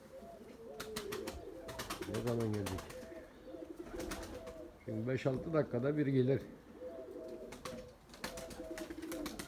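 Pigeons and a turtle dove coo softly in short repeated bursts nearby while people talk over them.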